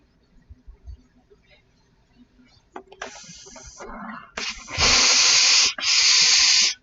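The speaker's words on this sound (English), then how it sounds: "So I'm going to iron this, and I'm going to steam it with the Laura Star." A Laura Star steam iron releasing dry steam gives several loud, close bursts of hissing, the last two long and strong, after quieter handling noises and brief clicks.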